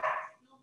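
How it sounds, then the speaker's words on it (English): A dog barks once, loud and close indoors, reacting to a doorbell, a single sharp bark that quickly fades. "the doorbell went off and my dog went crazy"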